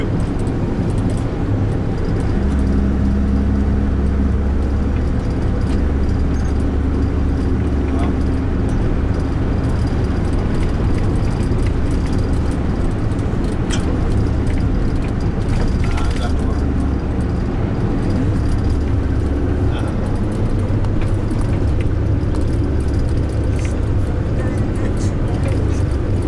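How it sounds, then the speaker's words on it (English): Ride inside a car on a road in Senegal, with a steady low engine and road rumble running throughout under near, continuous conversation. "where we're actually in the car right now,"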